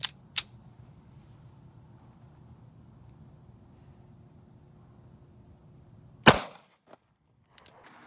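A Ruger LCP pistol fires a full metal jacket round into a BulletSafe vest: a sharp single shot stands out near the end, with a few quieter clicks before it in an otherwise quiet room.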